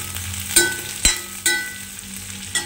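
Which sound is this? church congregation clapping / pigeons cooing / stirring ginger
stirring ginger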